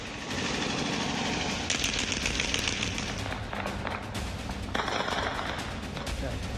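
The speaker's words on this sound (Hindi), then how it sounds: "दुनिया आज फिर देखेगी जश्न वाली फायरिंग।" Taliban celebratory gunfire in Kabul: a sustained, somewhat distant clatter of automatic shots and rattling bursts that runs throughout, mixed with crowd or voice noise.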